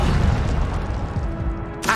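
A burst of the Incendio fire spell in Hogwarts Legacy, a loud low whooshing boom lasting about two seconds with a sharp crackle at the end, no talk over it.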